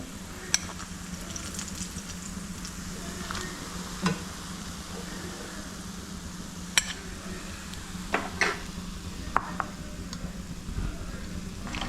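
Kilikkoodu snacks frying in a pan, a continuous low sizzle with occasional sharp clinks of a utensil against the pan, fairly faint and close, with no talking.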